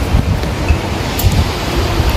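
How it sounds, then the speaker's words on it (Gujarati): Sea surf rolls onto the shore near the Gopnath temple coast, a steady low rumble of waves driven by gusty wind buffeting close to the microphone, with no voices. "દરિયો કૂકવાટા કરે ને જો કેટલો દરિયો."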